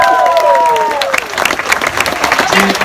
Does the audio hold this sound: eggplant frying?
no